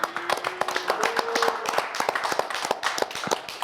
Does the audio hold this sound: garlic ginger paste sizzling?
no